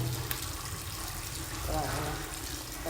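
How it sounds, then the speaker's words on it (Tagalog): Water runs steadily into an old Japanese squat toilet, a constant moderately loud gushing flow in a small bathroom that lasts the whole time. "Lakas ang tubig."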